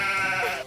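A man imitates a goat, voicing a single wavering, nasal bleat that lasts under a second, close and fairly loud, with no other talk.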